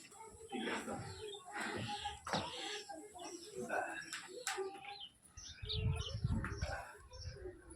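Small birds chirping nearby, perched atop a cardboard box roof set on a chair, their brief tweets mixed with cooing, soft rustles and a low rumbling thump toward the end.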